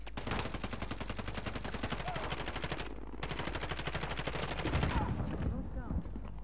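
Rapid automatic gunfire in Call of Duty Modern Warfare, long dense bursts of shots close and loud, with a brief break midway and other game sounds toward the end.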